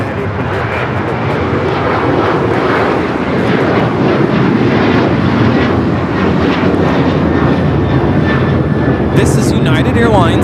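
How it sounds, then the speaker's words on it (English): A United Airlines Boeing 737-900ER takes off from LAX for Baltimore, its engines building into a loud, sustained roar close by, while people talk over the noise. "This is United Airlines 1805 taking off to Baltimore on the 737-900ER"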